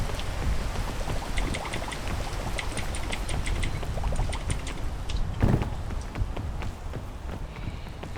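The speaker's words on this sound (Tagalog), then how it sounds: "Sa umuulan pa!" Steady rain falls outdoors during a hike, a dense continuous patter with scattered sharper drop hits close by, alone without talk.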